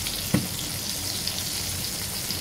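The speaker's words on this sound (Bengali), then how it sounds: "এক পাশ উল্টে অপর পাশ ঘুরিয়ে দিচ্ছি, যেন দুই পাশেই ভালোভাবে ভেজে নেওয়া হয়" Eggplant slices sizzle in hot oil in a continuous, even hiss, broken by one brief soft clunk as a slice is turned over, with no talking.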